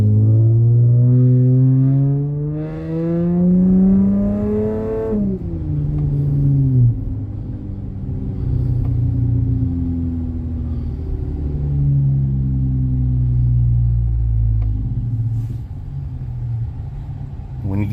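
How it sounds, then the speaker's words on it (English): A Chevrolet Sonic fitted with a MagnaFlow Magnapack exhaust revs up and settles with a deep, loud rumbling drone, rising then falling in pitch, heard from inside the car while a person talks over it. "how the Magna Flows have changed the sound"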